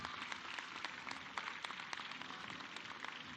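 A crowd at a public event for the Benito Juárez Universal Scholarship program gives a program coordinator a steady, faint wash of applause, dense scattered claps with no voices.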